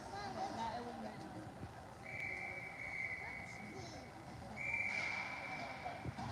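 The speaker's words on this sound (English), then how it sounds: "Another whistle pause for the adjustment on the clock." Two referee whistle blasts sound across a youth ice hockey rink, each a sustained shrill tone lasting a couple of seconds, set against arena crowd murmur and rink noise.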